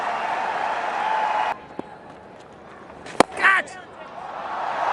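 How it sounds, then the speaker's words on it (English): A cricket crowd gives a small, steady cheer for Virat Kohli's century for India; the cheer lasts about a second and a half, then cuts off, leaving quieter ambience with a sharp knock and a brief voice. "Small cheer for the 100 for India."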